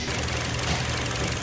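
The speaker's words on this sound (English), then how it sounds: "Obviously it's misfiring right now." A 2023 Kia Forte four-cylinder engine idles with a misfire, a close, steady mechanical chug with an uneven knocking pulse running through it, heard alone.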